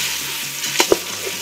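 Risotto rice tipped into melted butter in a pan, giving a steady close sizzling hiss broken by a couple of sharp knocks as the grains go in.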